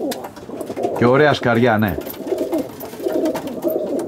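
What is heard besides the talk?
pigeons cooing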